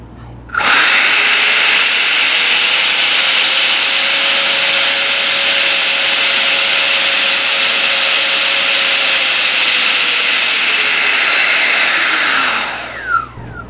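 The electric ducted fan motors of a Freewing SU-35 RC jet power up to a loud, steady high-pitched whine with rushing air, hold for about eleven seconds, then spool down.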